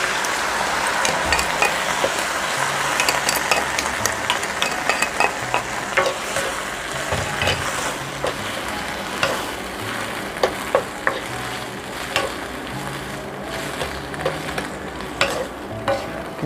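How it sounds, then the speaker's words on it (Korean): Shishito peppers stir-fried with a poured-in sauce in a hot pan for an anchovy side dish, giving a steady loud sizzle with repeated scraping and clacking of a spatula stirring throughout, no voices. "꽈리고추가 투명하게 볶아졌으면 여기에다가 준비해 놓은 소스를 여기다 넣어줍니다."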